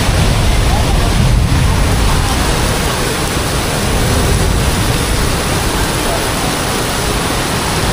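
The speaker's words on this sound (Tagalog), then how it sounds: "naririnig nyo ba yung pagaspas ng ng ulan?" Heavy typhoon rain from Typhoon Opong pours without a break beside the Marikina River, a loud, dense roar that fills the whole stretch and hides almost everything else.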